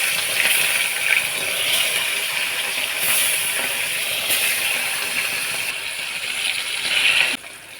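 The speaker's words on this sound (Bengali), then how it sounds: "কড়ার তেল গরম হয়ে গেছে, এখন দিয়ে দেবো মাছগুলো।" Turmeric- and salt-rubbed fish fry in hot oil in a wok, making a steady, close hiss of sizzling that carries on without talk, then drops off abruptly near the end.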